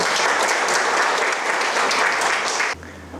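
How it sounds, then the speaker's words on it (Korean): An audience applauds a pastor with a burst of brisk, close clapping that fills the room for a few seconds, then stops abruptly, leaving a low room hum. "목사님께 박수 한번."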